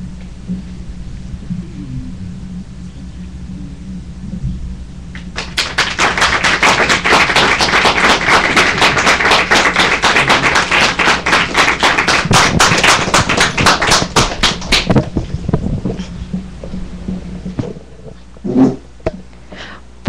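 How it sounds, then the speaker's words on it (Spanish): Audience applause after a school nativity-style play performed by pupils, a dense burst of many hands clapping that swells loud for about ten seconds, then thins into scattered claps with a few isolated louder hits near the end. "un gran aplauso a todos ellos"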